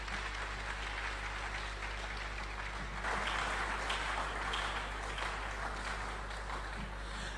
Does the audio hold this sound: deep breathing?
no